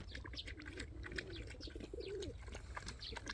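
Pigeons coo in a forest where street dogs are being fed, a soft repeated cooing close by over a steady low background rumble, with no talking.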